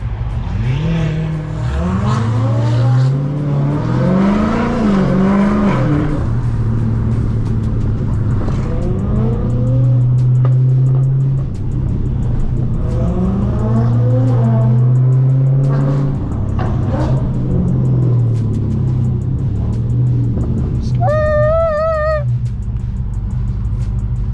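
Dodge Hellcat rated at 1000 hp revving hard on a Los Angeles street, a loud rising and falling engine roar with tire squeal over a continuous rumble, ending in a brief high whine.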